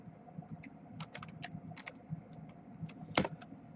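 Scattered keystrokes tapped on a computer keyboard, soft irregular clicks over a low hum with one sharper clack near the end.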